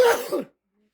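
A single sharp, close sneeze, loud and abrupt, followed immediately by silence.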